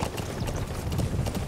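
Horse hooves clip-clop in the Metal Gear Solid 5: The Phantom Pain video game, a steady rapid rhythm of hoofbeats running continuously over low game ambience.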